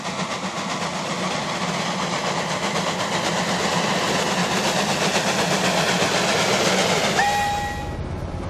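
A huge narrow gauge Garratt steam locomotive piloted by a Class NG-15 engine rolls past at close range, a loud steady rumble and clatter of wagons, with a whistle sounding near the end as the noise drops away.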